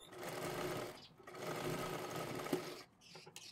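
Sewing machine stitching blouse fabric and lining for a 4-tuck blouse, running in steady continuous bursts close by with two brief pauses, no talk over it.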